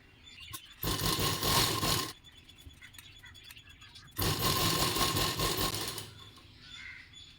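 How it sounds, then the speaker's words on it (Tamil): A sewing machine runs straight stitches through blouse patti pieces and cloth at a half-inch seam, in two loud sustained bursts of about a second and nearly two seconds, separated by quieter handling noises. "இனி அடுத்து 1/2 இன்ச் அளவில் நம்ம ஸ்ட்ரெயிட்டாக ஸ்டிச் பண்ணிக்கலாம்"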